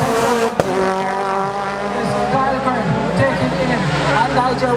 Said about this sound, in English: Nigel Wilbur going into the mid corner at the base way for the first approaching car.